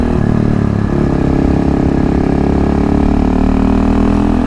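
A KLX351 or KTM 625SMC motorcycle engine lugs steadily at low revs in low gear uphill, a deep loud drone with a slight shift in pitch early on, continuous throughout.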